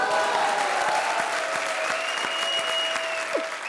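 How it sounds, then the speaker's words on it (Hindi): Studio audience at a comedy show poetry-recital skit claps steadily and loudly throughout, a dense wash of applause with a faint whistle-like tone and a few cheers mixed in. "ठोको ताली।"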